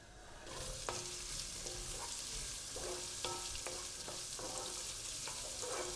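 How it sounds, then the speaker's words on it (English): Onions fry in oil with cumin seeds in a hot pan, making a steady, dense sizzle with occasional light spoon taps and stirring clicks, close up and moderately loud, with no voices. "Now onions are going to go in and cook for around 8 to 10 minutes."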